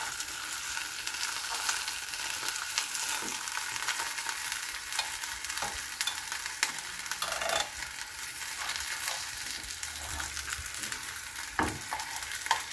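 Lapu-lapu fish fries in a pan, giving a steady, close sizzle and crackle with occasional clinks and scrapes of a utensil, and no talking.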